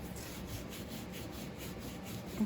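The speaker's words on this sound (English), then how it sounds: "brush over that, and that's coming off real nicely" Steady brushing to clean surface rust off metalsmith tools, a continuous soft scratchy rubbing that stays even throughout, close but quiet, with no talking.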